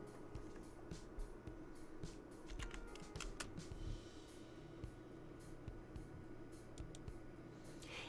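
Someone types on a computer keyboard while working in Tinkercad, a quiet, steady patter of close key clicks with a few firmer taps, no voices.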